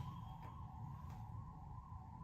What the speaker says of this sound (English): There is a siren outside. I don't know what vehicle it is.